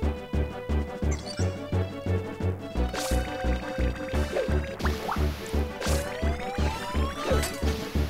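A water attack in Pokémon Ranger: Shadows of Almia plays as a rapid, regular train of splashy pulses repeating about twice a second, with brighter swooshing effects layered on top midway through.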